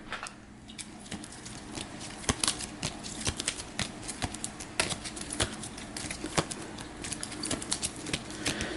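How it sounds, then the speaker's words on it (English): Board game mystery cards are shuffled by hand at a tabletop game of Eldritch Horror, with quick irregular riffling snaps and taps close up for several seconds and no talk. "And then these are our mysteries, so we'll give this a quick shuffle."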